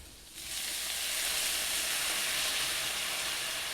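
Demi-glace hits a hot steak pan over shallots, garlic and rosemary and bursts into a loud, steady sizzle that holds for several seconds with no talking.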